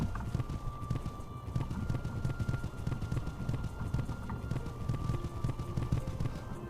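A horse runs in the Saddle Club Willowbrook Stables video game, its hooves clip-clopping in a steady, even gallop rhythm throughout, fairly close and clear, with a faint whinny in the background.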